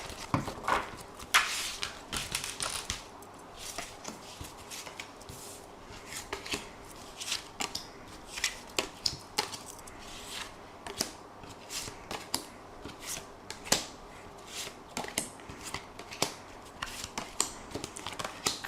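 Tarot cards shuffled for a card reading, a quiet continuous run of soft riffling flicks and taps in a steady rhythm, close by and alone.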